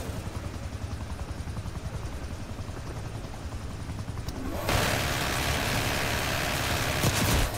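A helicopter in Black Ops 6 drones steadily with a rapid rotor chop, growing louder and brighter about halfway through as it passes close, amid game sounds.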